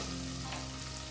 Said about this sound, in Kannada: ಹಾಕ್ಕೊಂಡು ಇದನ್ನು ಅಷ್ಟೇ ಚೆನ್ನಾಗಿ ಫ್ರೈ ಮಾಡ್ಕೊಬಿಡಿ.